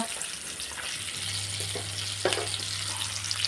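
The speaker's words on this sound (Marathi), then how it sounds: "त्यात टाकायचे आपल्याला हरभरे, वाटाणे, हे भाजीपाला फ्राय करून घेऊ." Vegetables with chickpeas and peas frying in a pan with turmeric, a steady soft sizzle with a low hum underneath and a couple of brief stirring clinks.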